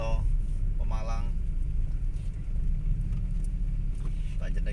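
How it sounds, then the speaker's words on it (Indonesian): Cars stream past on the Pantura road in Indonesia, a continuous low traffic rumble with vehicles passing nearby, under someone talking throughout. "Terbukti masih banyak banget mobil ya yang lewat sini"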